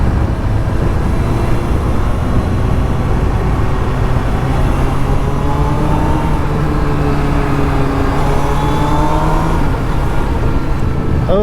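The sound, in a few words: motorcycle engine riding twisties with quick shifter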